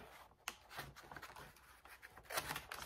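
Scissors cut through thick Christmas wrapping paper on a gift. A few quiet, crisp snips and rustles are spaced out, with the sharpest cuts near the start and the end.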